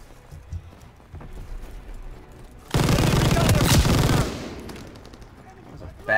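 A grease gun fires in Call of Duty WW2, a dense burst of automatic gunfire lasting about a second and a half that stands out loudly over quieter game ambience and movement sounds.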